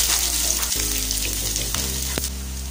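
Chopped shallots hit hot coconut oil with popped mustard seeds, bursting into a loud, steady sizzle with a few sharp crackles, close up and with no voices.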